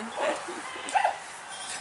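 Dogs separated by a wooden fence bark, yip and whimper at each other in a brief, moderately loud exchange, with a sharper bark cluster near the middle.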